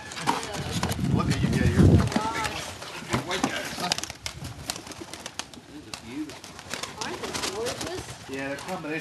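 Racing and fancy pigeons from a wildlife rescue being released, with wing flaps, soft coos and fluttering bursts close by, loudest early on, while people talk throughout.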